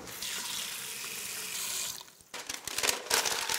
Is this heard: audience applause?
no